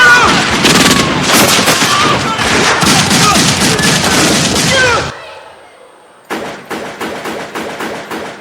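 A loud volley of gunfire in a dramatic scene: dense, overlapping shots crackle for about five seconds, stop briefly, then return as a steady run of separate, evenly spaced shots.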